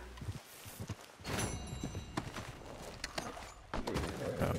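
Horse hooves clip-clopping in the Red Dead Redemption 2 video game, a soft, uneven series of hoof thuds at moderate distance that blends with low game ambience and occasional heavier knocks.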